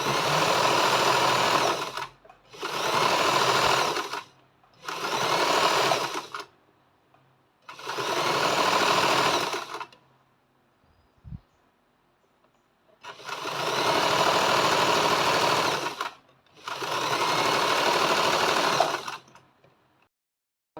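Sewing machine stitching a triangular gusset onto a dress to widen the chest, running in six loud bursts of steady whirring separated by short pauses, close and with no talk.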